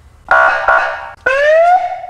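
An ambulance siren on one of the new ambulances in the Lozova district of Ukraine gives two loud, close electronic tone bursts, then a rising, sweeping wail, with no voices over it.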